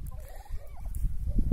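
Turkeys raised on a homestead yard make short gobbling calls, fairly close, mixed with low rustling and shuffling noises.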